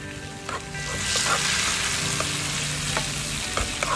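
Chopped garlic frying in hot oil in a pan, giving a steady close sizzle with light crackles and occasional stirring clinks.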